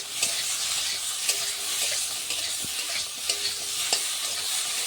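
Vegetables, brinjal and broad beans seasoned with salt and turmeric, sizzle steadily in a pan while a spatula scrapes and taps the metal at regular intervals, close and fairly loud, with no talk.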